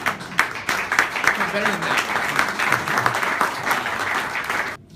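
Audience applause at an evening art and justice benefit rolls on as a loud, dense clatter of many hands, with a voice speaking briefly over it before it cuts off abruptly at the end.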